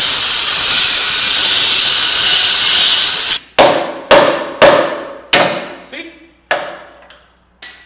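Metal being cut beside a weld on an OBS Chevy solid axle job: a loud, steady harsh hiss for about three seconds, then stops, followed by around six sharp, ringing metallic strikes at uneven intervals.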